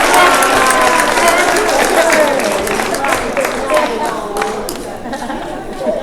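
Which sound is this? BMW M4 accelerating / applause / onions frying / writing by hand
applause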